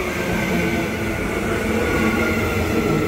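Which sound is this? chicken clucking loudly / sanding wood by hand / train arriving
train arriving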